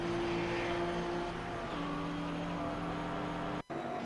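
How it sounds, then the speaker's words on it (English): A GT3 race car pulls away at the Nürburgring during a 24-hour race, its engine note a steady drone with a slight pitch shift, heard from a distance over the broadband track ambience, briefly cut off near the end. "And we're hearing one of the GT3 cars heading off."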